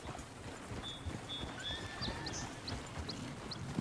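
Horse whinnies rise over steady clip-clop of hooves in the open-world Western video game Red Dead Redemption 2, with a few short neighs and snorts near the middle against a busy outdoor background.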